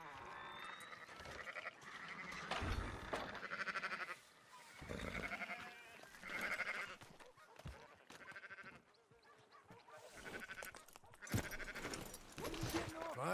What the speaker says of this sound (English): Fine sheep.